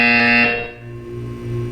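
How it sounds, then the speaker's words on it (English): A loud electronic buzzer sounds in Portal 2, a harsh tonal blare that cuts off abruptly after about half a second, followed by a lower lingering hum. "You will hear a buzzer."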